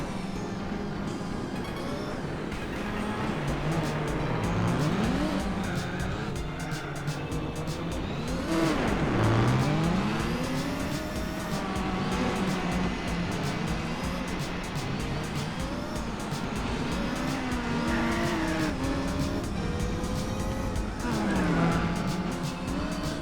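Race car engines in Gran Turismo 4 rise and fall in pitch through repeated gear shifts across a long stretch, with occasional tire squeal on asphalt and dirt, loud and continuous.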